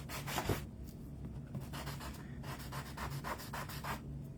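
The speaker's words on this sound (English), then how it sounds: "sand it just a little bit" Sandpaper rubs across a painted wooden sign in soft, close, rhythmic scratchy strokes that come in quick groups, quiet overall with no voices.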